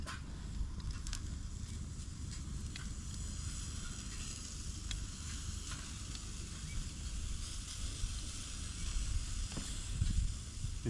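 Food searing on a small grill over a mini fire stove, a steady close sizzle and hiss running continuously with faint crackles and occasional clicks.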